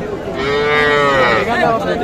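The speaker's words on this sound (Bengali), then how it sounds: "আর এগুলো ছিল সব আজকে বকনা বাচ্চা, কিছু ষাঁড় বাচ্চা দেখাবো আপনাদের" Cattle lowing at a livestock market where young heifer and bull calves are sold, one long, loud moo with rich harmonics filling most of the moment, close to the listener.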